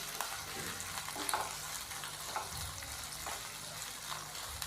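Finely chopped carrots and capsicum fry in garlic paste, giving a faint, even hiss of sizzling oil with occasional soft stirring taps, low in level and without talk.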